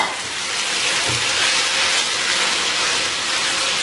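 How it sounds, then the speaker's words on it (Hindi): Chicken pieces frying with garlic in hot oil in a wok make a loud, continuous hissing sizzle, close up and uninterrupted, with no voices. "लहसुन के साथ हम थोड़ा सा चिकन को फ्राई करेंगे"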